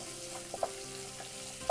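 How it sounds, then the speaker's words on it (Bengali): Steady, fairly quiet sizzling of food frying in a pan over medium heat, with a couple of soft ticks and pops. "এটাকে ভাজতে হবে মিডিয়াম আঁচে ভাজতে হবে"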